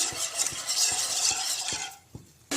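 Khandvi batter is stirred steadily in a pan, a spoon scraping with a regular rhythm of soft knocks against the metal, close and fairly loud with no voices.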